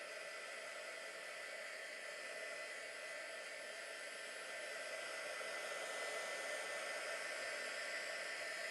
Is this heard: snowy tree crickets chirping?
no